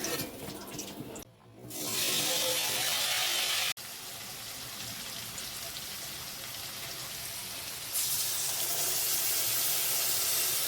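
Dishes being washed under a running tap, a steady, close splashing rush of water with a brief dip and a short clatter, then water continuing loudly to the end.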